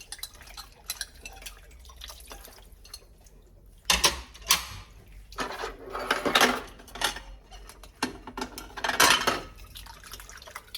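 Household dishes clinking and clattering as they are packed into a box for the storeroom, with irregular bursts of clatter and faint dripping water in a quiet kitchen.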